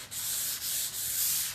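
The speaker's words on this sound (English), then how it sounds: "I run my hand as I'm sanding because I can feel where it's rough" Hand sanding of painted furniture with 320 grit sandpaper, a steady soft hiss of paper rubbing back and forth in close, even strokes, fairly quiet.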